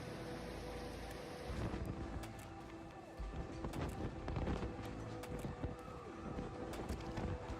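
Steady heavy rain in a thunderstorm in Istanbul with a low rumble of thunder, broadband wash throughout with occasional crackling bursts, no voices.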